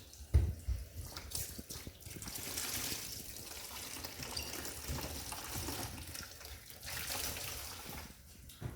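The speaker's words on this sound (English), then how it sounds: "Take a basin, a little hot water and 1 squirt of washing up liquid." Hot water runs and trickles steadily into a basin, continuing for several seconds with a faint splashing texture throughout.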